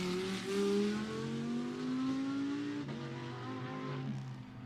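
GT2 race cars circuit Misano, engines droning and shifting pitch as they pass, with a steady rising tone broken by a gear change midway; a continuous, fairly distant racing roar without voices.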